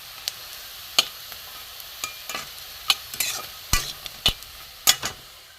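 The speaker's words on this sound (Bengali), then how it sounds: "সুন্দর করে লাল করে ভেজে নিই" Fish roe fritters fry in oil in a wok with a constant close sizzle, punctuated by sharp, uneven clicks and scrapes of a spatula turning them.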